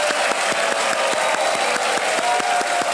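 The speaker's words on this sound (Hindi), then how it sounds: "और एक बार जोर से तालियां फिर बज जाएं" The studio audience on the Hindi game show Kaun Banega Crorepati claps loudly for a contestant's win, with sharp rhythmic beats running through the dense applause and a faint musical tone underneath.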